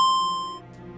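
A single bright electronic phone ring tone sounds, then quickly fades out.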